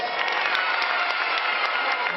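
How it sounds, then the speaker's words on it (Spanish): A crowd claps and cheers for a dad competing in a children's entertainment show game, a steady, lively burst of applause with shouts mixed in at moderate loudness. "Aplausos y gritos para el papá número dos."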